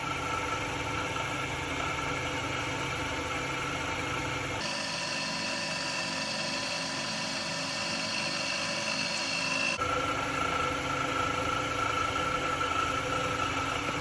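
Wet-sanding a pen blank with 3600-grit abrasive on a spinning lathe, a steady mechanical hum with a dense whirring drone that shifts in tone partway through and then returns, loud and continuous with no talking.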